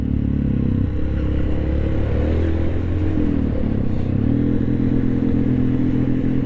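A trail motorcycle descends a steep sandy slope toward the Bromo sand sea under engine braking, its engine droning loud and close with a steady low rumble and shifting pitch.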